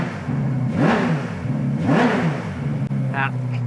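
Naturally aspirated car engine in a collection of cars in Dubai, given two short throttle blips that rise and fall over a steady idle, with people talking nearby.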